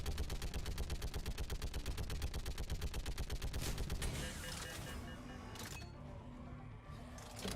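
Mounted turret fire in the video game Mass Effect 3 rattles out in a fast, steady stream of loud, evenly spaced shots, then stops and gives way to quieter battle ambience.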